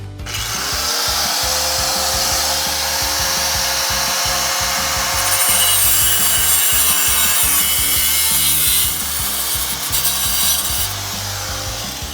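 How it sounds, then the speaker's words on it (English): A cutoff wheel slices through a rusted shock bolt on a Toyota Stout, producing a loud, continuous grinding rasp with a pulsing low rumble, steady and close for the whole stretch. "No surprise, guys, that this side was also rusted, so trusty cutoff wheel."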